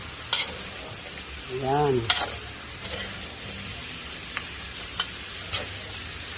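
Upo and noodles are stirred in a pan for pancit guisado, giving a few soft scraping strokes with light sizzling and occasional clicks of the utensil, heard close up over faint background hum.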